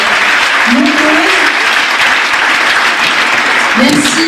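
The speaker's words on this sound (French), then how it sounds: "on peut encore tous les applaudir" Sustained, loud audience applause fills a New Year's wishes ceremony for a community council, steady dense clapping throughout with a few brief voices or whistles rising above it.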